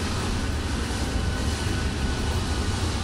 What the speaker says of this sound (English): I can hear an airplane.